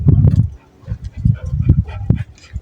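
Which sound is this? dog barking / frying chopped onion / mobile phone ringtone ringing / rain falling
dog barking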